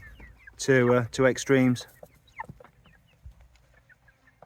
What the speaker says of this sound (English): that's one of the problems with this kind of chicken